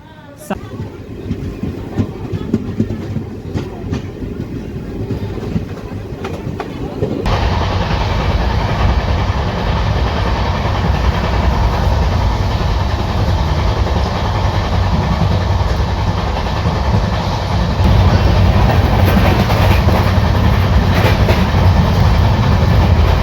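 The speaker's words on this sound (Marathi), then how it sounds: "किनवटवरून आपली गाडी जी आहे ती निघालेली आहे" The Nanded–Adilabad Intercity Express pulls out of Kinwat and gathers speed, quiet rumbling giving way to a loud, continuous roar of wheels and carriage rattle that grows slightly louder near the end.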